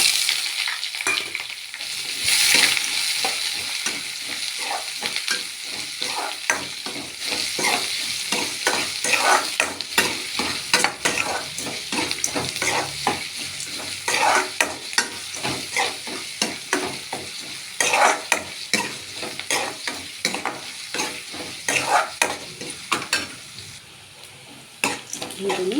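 Onions frying in a pan with urad dal, mustard seeds and curry leaves, a continuous loud sizzle crackling throughout, with frequent scraping of a spatula as the mixture is stirred, no talk.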